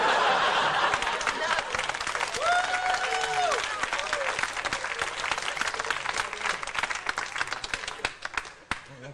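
A live comedy-club audience claps in dense, sustained applause mixed with scattered laughter and chuckles. It starts loud and slowly tapers, while a voice speaks briefly over the crowd.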